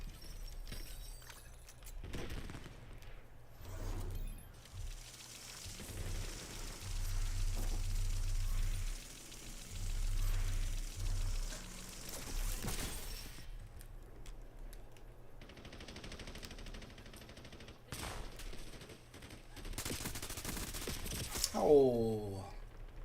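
Scattered gunshots and bursts of automatic fire in Call of Duty Warzone, mostly distant and moderate, set against a steady low engine-like rumble and game ambience, with a sharper electronic sweep near the end.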